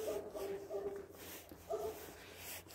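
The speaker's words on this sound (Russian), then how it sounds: "Ну, еще и собака лает." A dog barks several times at a moderate distance outdoors, short bursts separated by pauses over quiet street ambience.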